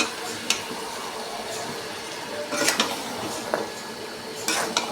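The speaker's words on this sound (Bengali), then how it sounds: "হলুদ গুঁড়ো দেবো। দিয়ে আমি ভালো করে নাড়িয়ে নেব।" A spoon scrapes and clinks against a pan while spices and turmeric powder are stirred, in a few sharp taps over a faint background hiss.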